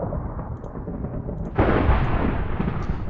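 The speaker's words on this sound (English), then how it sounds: "Man, what's with all the thunder?" Thunder in the game Minecraft: a deep rumbling crack bursts in halfway through, loud and booming, then rolls on as a heavy low roar over a steady background of rain-like noise.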